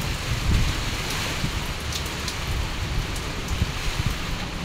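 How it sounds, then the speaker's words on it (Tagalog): Heavy, steady rain pouring during Typhoon Uwan, a dense continuous hiss of drops on surfaces with low rumbling gusts underneath. "Tsaka ang ulan."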